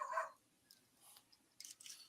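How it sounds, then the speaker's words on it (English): A dog barks loudly indoors, a couple of short, faint bursts at the start and again near the end, with a quiet room in between and no talking. "I have a loud barking dog."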